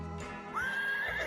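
Horse in a video game giving a clear, high, wavering neigh after a soft hoof clop, close and alone, with no voices.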